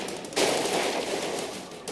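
Rapid gunfire in the side-scrolling action game The Expendabros, a dense continuous burst of shots starting abruptly and rattling on for over a second, loud and close, with no talking.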